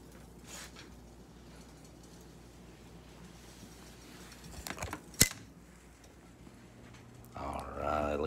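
A knife cuts through a grilled egg and cheese sandwich, giving a few faint crunches and one sharp crack near the middle against a quiet kitchen background; a louder clatter follows at the end.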